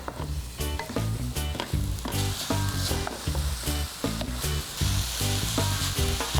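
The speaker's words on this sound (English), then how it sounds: "We want to fry this off until the mince is all nice and browned." 500 grams of minced beef frying in a pan for spaghetti bolognese, a loud, dense sizzle heard up close with repeated scraping and stirring knocks and no talking.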